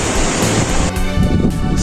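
Strong wind on a mountain trail at Gede-Pangrango, heard as a loud, roaring rush of wind buffeting the microphone, steady and close for a couple of seconds with no talk.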